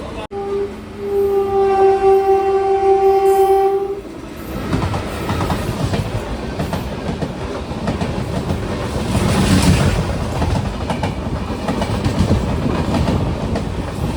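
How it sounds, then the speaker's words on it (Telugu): A MEMU passenger train on the line toward Tiruvannamalai gives a loud horn blast for a few seconds, then a steady rumble and rattle of wheels on rails carries on throughout. "మనమైతే అరుణాచలం అయితే బయలుదేరిపోయినాం, అది కూడా మెమో ట్రైన్లో అయితే"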